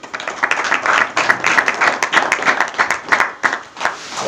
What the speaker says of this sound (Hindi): माता जी ताली बजाओ माता जी।